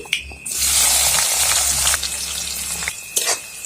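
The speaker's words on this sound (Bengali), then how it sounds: "পেঁয়াজটাকে একটু ভেজে নিব" Chopped onion fries in hot oil with mustard seed tempering, a loud close hiss of sizzling that swells after a brief scrape and carries on steadily, with a few stirring knocks and no voices.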